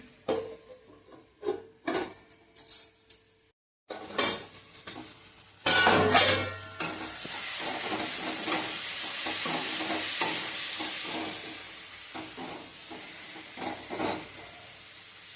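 Paneer frying in a pan, starting with a few clinks and clatters of utensils, then after a short lull a loud burst of sizzling that settles into a steady, close crackle with occasional stirring.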